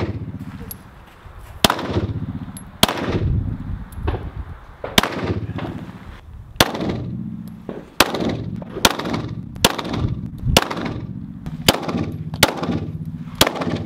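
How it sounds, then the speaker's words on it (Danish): Gunshots at an indoor-style shooting range, about fifteen sharp loud reports fired at irregular intervals, each followed by a short echoing decay, with a quieter stretch between some shots. "Jeg har skudt allerede 15 skud af."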